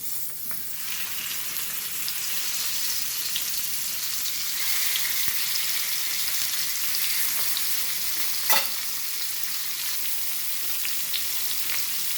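Hilsa fish frying in hot mustard oil, a steady broadband sizzle that crackles evenly throughout, close and fairly loud with one sharp pop partway through and no voices.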